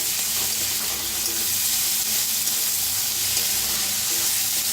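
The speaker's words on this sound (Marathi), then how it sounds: "त्याच्यातच टाकूया टमाटर। टमाटरला बी भाजून घेऊया." Onion and tomato fry in a pan for a Marathi dingri (mushroom) bhaji, giving a steady, loud, close hiss and sizzle that runs without a break and with no talking.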